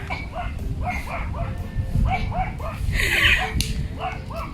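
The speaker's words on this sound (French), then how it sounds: "Et il y a un petit chien qui lui aboie dessus." A small dog yaps in quick repeated bursts at mid distance at a hillside spot where a woman is doing yoga, with steady outdoor background noise throughout.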